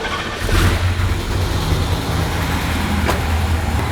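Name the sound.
car engine started and running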